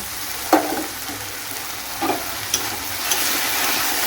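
Chopped tomato and ground spice paste fry in a pan over browned onions, making a steady, fairly close sizzle. Several louder stirring scrapes break into it at irregular moments, and nobody talks.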